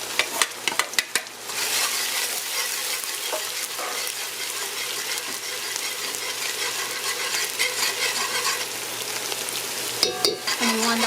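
Aromatics fry in caramelized sugar in a pot with a dense, steady sizzle. A burst of clinks and utensil scrapes from stirring comes at the start and again near the end.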